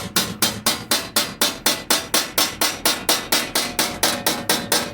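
Metal sheet edge struck repeatedly with a hammer to roll it over a curve, about four sharp, evenly spaced ringing blows per second, close and loud with no talking.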